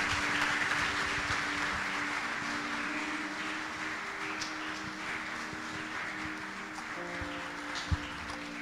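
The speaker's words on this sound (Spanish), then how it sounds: "Lo recibimos con un fuerte aplauso al Señor." Steady applause at a church service fills the space, a dense wash of clapping that holds at an even level throughout over a faint background hum.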